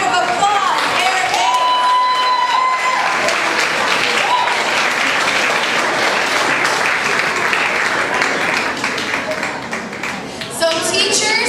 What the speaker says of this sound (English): Let's give him a big round of applause, Eric.